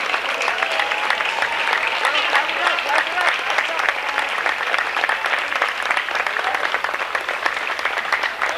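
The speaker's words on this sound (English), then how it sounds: "Round of applause for the Otter Rally team." A gym crowd at a varsity boys basketball tip-off game claps steadily for the rally team, a dense, even wash of applause sustained throughout with some voices mixed in.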